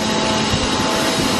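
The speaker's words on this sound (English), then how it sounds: "At least we got the dryer up and going again, so we are drying corn." A corn grain dryer running on a farm, giving a steady, loud broadband roar of fan and burner noise that holds constant throughout with no talking.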